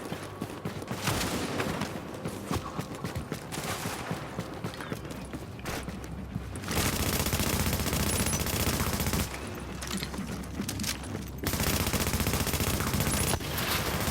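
A deployed turret in the shooter game Tom Clancy's The Division fires rapid automatic bursts, loud and dense, in long sustained volleys with brief gaps between them.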